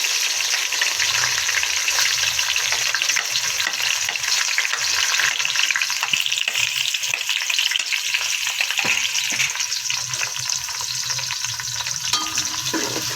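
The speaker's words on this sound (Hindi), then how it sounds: "प्याज हमने इसमें डाल दिए।" Onions frying in hot ghee for peas pulao give a dense, loud, continuous sizzle with a crackling hiss, close by, with faint stirring and no voices.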